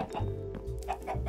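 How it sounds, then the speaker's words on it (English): Chickens cluck in quick, close bursts over a constant low background hum. "look, there's chickies. There's chickens."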